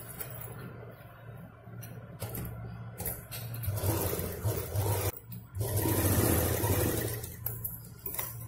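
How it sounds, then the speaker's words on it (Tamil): A sewing machine stitches a cloth shoulder bag, a continuous motor hum with rhythmic needle chatter, fairly close and steady throughout. "இதை திருப்பி வச்சு ஒரு அமுக்கு தையல் ஒன்று போட்டுடலாம்."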